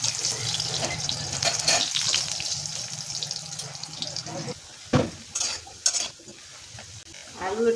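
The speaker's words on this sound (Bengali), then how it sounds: "আলু একটু ভেজে নিয়েছি," Diced potato frying and being stirred in a pan for a drumstick and egg dish, a steady sizzle with utensil scrapes that drops away near the end, leaving a few sharp clinks and stirs.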